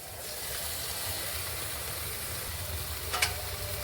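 Fried potatoes sizzling in masala in a pan, a close continuous hiss of frying with a brief clink near the end.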